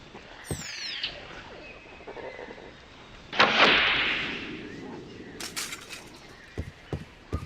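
A bow in a video game looses a grappling hook trailing a rope: a sharp release and whooshing swish around the middle, preceded by a faint whistle and followed by a few light clicks and taps.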